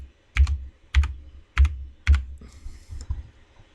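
A six-digit two-factor code is typed on a computer keyboard, with several crisp clustered keystrokes landing at a steady, unhurried pace, close and distinct in a quiet room without speech.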